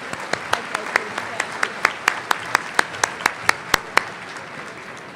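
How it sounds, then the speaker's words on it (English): Sparse, rhythmic clapping at an annual leadership luncheon, a few sharp claps about every quarter second over a quiet room murmur. "let's give another round of applause to Natalie Foreman"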